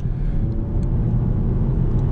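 A Škoda Octavia 2.0 TSI engine accelerates with a steady, deep, loud rumble that holds throughout the short stretch.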